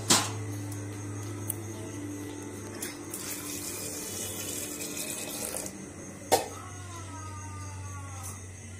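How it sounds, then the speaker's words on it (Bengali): Dried peas soaked about three hours are rinsed under a kitchen tap, a soft steady stream of running water with occasional clinks of a vessel, quiet and close. "মটরগুলো ধুয়ে পরিষ্কার করে কুকারে দিয়ে দিচ্ছি।"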